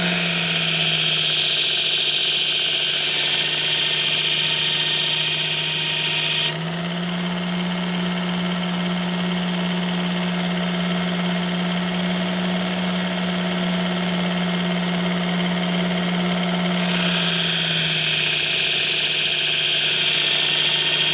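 A powered sharpener whines steadily as a Kizer Matanzas knife blade is passed against it, a constant motor tone that shifts in pitch and load for about ten seconds in the middle, with no talking.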